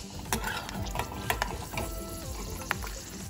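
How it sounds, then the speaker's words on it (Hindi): Almonds and cashews roast in hot ghee with a busy sizzle, broken by repeated scraping and stirring clatter from a spoon in the pan. Close and continuous, with no talking. "अब इसमें बादाम भून देते हैं,"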